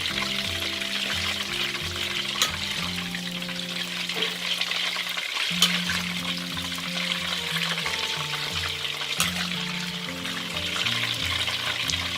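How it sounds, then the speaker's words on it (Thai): Chicken wings deep frying in plenty of oil over medium heat, a steady crackling hiss that continues throughout with faint clinks and background tones, no talking. "เวลาทอดค่ะ ให้ใช้เป็นไฟกลางนะคะ"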